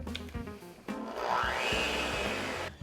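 Electric mixer creaming shortening, butter, sugars, egg and vanilla in a bowl: a steady whirring drone that ramps up and holds, after a few knocks and clatters at the start.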